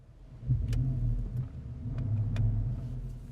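A 2014 Porsche Panamera Turbo V8 engine rumbles low and deep as it accelerates, heard from inside the cabin, with a steady powerful drone and faint clicks.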